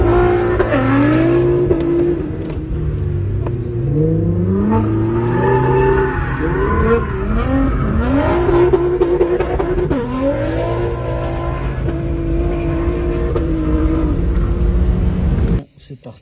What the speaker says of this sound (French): Je vais aller tourner avec la GTR en mode drift.